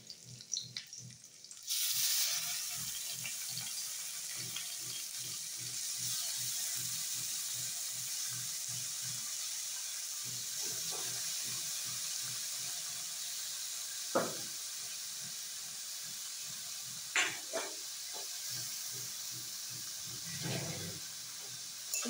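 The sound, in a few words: grated pumpkin frying in pan with garlic and chillies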